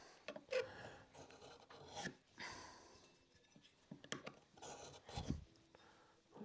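A Festool Domino doweller cutter is sharpened by hand with a file, giving faint, irregular rasping strokes and scrapes at close range with quiet pauses between them.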